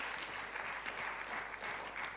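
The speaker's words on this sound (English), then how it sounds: "Clap for her." Audience clapping at a medical college public lecture, a brief burst of many hands applauding, even and moderately loud throughout.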